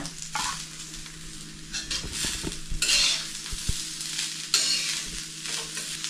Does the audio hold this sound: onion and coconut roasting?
yes